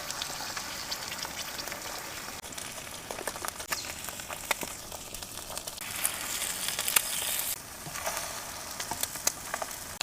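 Eggs frying in a pan at a truck camp in the woods, a soft, continuous crackling sizzle with scattered sharp pops, fairly faint and close, with no talking.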